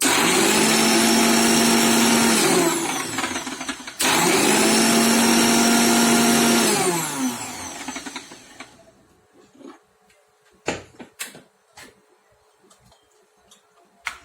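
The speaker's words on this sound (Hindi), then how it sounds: "उसे हमें एकदम बारीक ग्राइंड करना है, कोर्सली ऐसा ग्राइंड नहीं करना है, एकदम बारीक पेस्ट बनाना है।" A kitchen grinder whirs loudly and steadily, grinding chickpeas into a fine paste for Lebanese hummus. It stops briefly, restarts, then winds down, and a few clunks and knocks follow.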